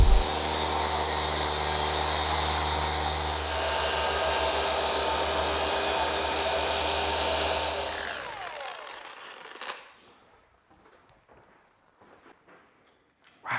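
A machine polisher whirs steadily on hard white Audi car paint, then winds down and stops near the end, leaving scattered faint handling noises.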